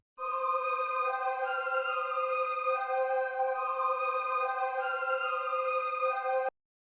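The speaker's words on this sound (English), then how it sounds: "This is what it sounds like without effects." A dry choir melody sample for a drill beat, with no effects applied, plays as sustained layered vocal chords that shift pitch in slow steps, steady and clear with no talk, ending abruptly.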